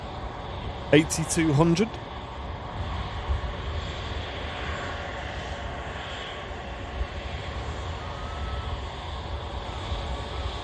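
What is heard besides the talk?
Air France aircraft arriving from Paris at Manchester Airport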